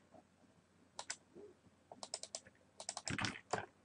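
Typing on a computer keyboard while wiring an analog and digital sensor to an openPICUS board: short bursts of crisp key clicks, sparse at first then a faster cluster, close and fairly quiet with no talk.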